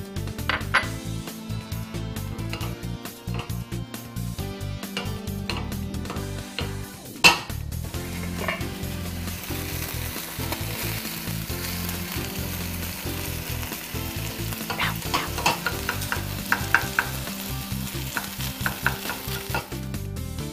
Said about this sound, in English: we're gonna heat the skillet over a medium heat and add our ground beef